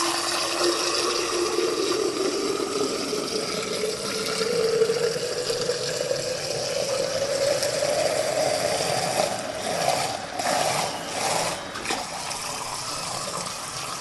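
Water pouring through a cleaned ceramic, carbon and resin water filter into a 900 ml jug, a steady near gush whose pitch rises as the jug fills, with faint clicks near the end.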